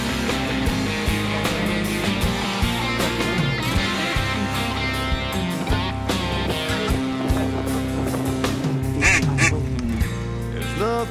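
A mallard hen quacks repeatedly at a duck and goose hunt, the calls mixed under loud, continuous background music.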